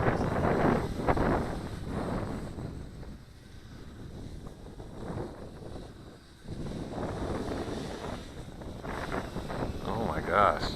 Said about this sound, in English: I'd say we've got at least 30 mile an hour wind going on right now.